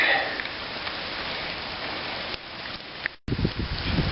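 Steady rain pours down outside a primitive campsite shelter, a dense, continuous hiss of drops on the surroundings, close and fairly loud, with a brief dropout near the end before the downpour resumes.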